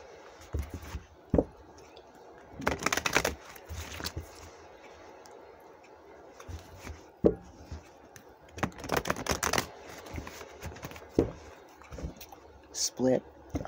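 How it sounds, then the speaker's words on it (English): Playing cards are shuffled by hand in a few short, crisp riffling bursts spaced apart, with quiet gaps and a person talking between them. "they're telling me to shuffle again"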